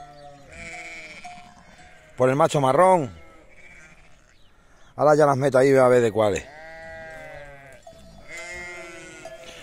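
Sheep with newborn lambs, some of them brown, bleat twice in loud, long, wavering calls close by, while someone talks in Spanish in between.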